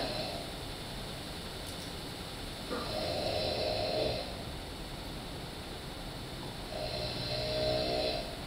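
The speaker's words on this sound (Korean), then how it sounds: "이것도 코를 골고 숨을 멈추지는 않는 것 같아요 지금." A patient snores during sleep with shallow, reduced breathing (hypopnea), two prolonged rasping snores rising over a steady noise bed, each lasting about a second or more, with quieter breathing between them.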